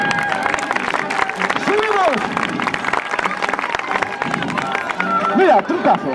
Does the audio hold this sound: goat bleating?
no